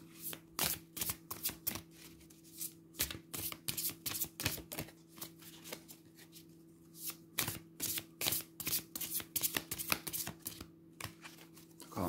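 Oracle cards being shuffled by hand, a steady run of crisp riffling bursts close up over a low background hum, with no talking.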